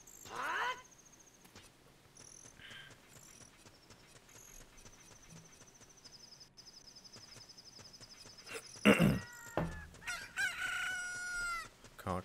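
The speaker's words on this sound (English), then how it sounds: "Cock-a-doodle-doo." A rooster crows in the video game Ocarina of Time Master Quest, a loud rising crow near the end that stands out over quiet game tones, chimes and soft ambient effects.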